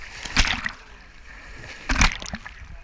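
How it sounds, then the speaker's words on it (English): Big ocean waves off Florida splash and slosh in two heavy bursts separated by a quieter wash of water, close and loud. "The waves are so big."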